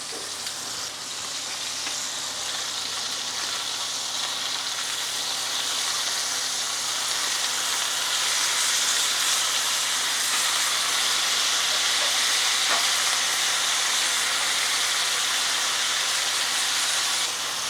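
Wagyu tenderloin steaks sear in a hot skillet for steak Diane, giving a loud, continuous sizzle and hiss of frying fat that holds steady and close throughout.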